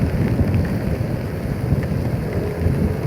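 Heavy rain pours down during an early-morning drive on EDSA, a dense, steady roar of rainfall and road noise with no pauses.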